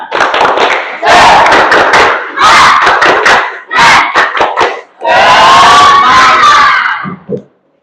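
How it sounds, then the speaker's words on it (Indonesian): A class of schoolchildren in an Indonesian classroom lesson performs a loud rhythmic spirit chant, with shouted voices and claps in short bursts and a longer sustained cry, ending with a few quick claps. "Ayo, kita tepuk semangat dulu ya."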